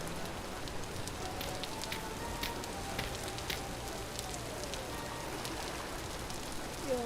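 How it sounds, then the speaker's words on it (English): Heavy, steady rain in the video game Vintage Story, a dense, unbroken hiss of falling drops filling the scene at a constant level with scattered louder patters and a faint low rumble underneath. "You're being drowned out by the background noise and rain, right?"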